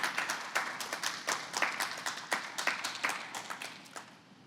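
A church congregation claps for a spell after a Christmas sermon, a fairly close patter of many hands with uneven bursts that thin out toward the end, no talking over it.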